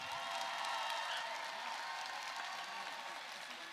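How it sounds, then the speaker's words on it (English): A large arena audience at a FIRST robotics district championship applauds the teams on the field, a sustained broad roar of clapping with faint cheers mixed in. "one big round of applause for all the teams we have down here on the field"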